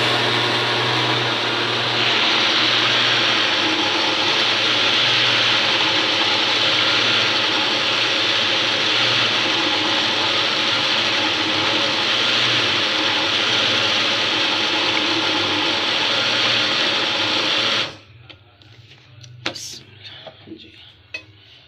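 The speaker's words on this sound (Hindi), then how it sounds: "अब हम कर रहे हैं जी मक्खन निकाल रहे हैं" Butter being churned at home gives a loud, continuous rattling mechanical whir with metallic clatter for roughly eighteen seconds, then stops abruptly, leaving a few faint knocks and clinks.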